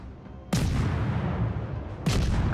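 Naval guns fire in World of Warships: two loud, close booming salvos about a second and a half apart, each a sharp blast trailing into a rumbling roar, with no talk.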